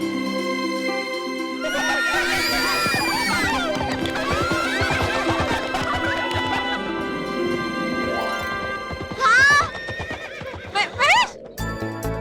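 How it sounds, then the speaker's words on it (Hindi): Horses whinny and neigh loudly over a musical score, with long shrill cries early on and sharper bursts later, plus some faint hoof clatter; no voices. "हमारे साथ घोड़े भी जा रहे।"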